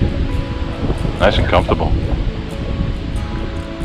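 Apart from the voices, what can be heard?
wind blowing, rustling leaves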